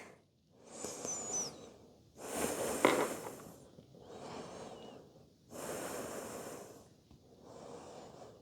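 Slow, deliberate breathing during a yoga shoulder stretch: four or five long breaths close to the microphone, each a soft airy rush with pauses between, audible and unhurried with no talking.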